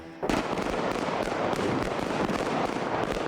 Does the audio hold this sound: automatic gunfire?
yes